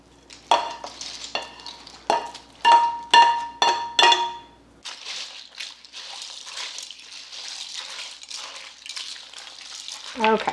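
A spoon clanks rhythmically against a crock pot while ground beef and pasta ingredients are stirred together, several sharp knocks followed by a softer continuous scraping and squelching, close and fairly loud.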